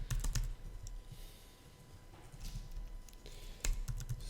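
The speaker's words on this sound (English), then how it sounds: "You have to type in your object name" Keystrokes on a computer keyboard as an object name is typed in Houdini, a quiet run of clicky taps with a few louder bursts near the start and end, no voices.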